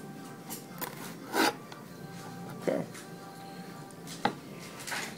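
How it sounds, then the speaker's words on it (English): A knife slicing a cleaned squid tube into 1-inch strips on a board for calamari gives a few soft, separate cutting taps under a steady background, while someone talks. "with the tube, you're just going to cut it into little 1-inch strips like that."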